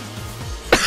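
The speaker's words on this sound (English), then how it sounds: "Excuse my cough." A single short, sharp cough bursts out near the end of a brief stretch of quiet room tone, close to the microphone.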